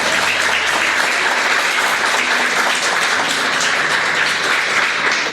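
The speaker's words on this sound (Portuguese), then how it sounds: "Aplaude com fé, irmão" A church congregation applauding together, dense loud clapping that runs steadily throughout with no pauses.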